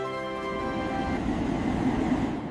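Steady, droning rumble of a Shinkansen bullet train in motion to Osaka, Japan, with a constant hum and faint tonal whine, heard from inside the carriage.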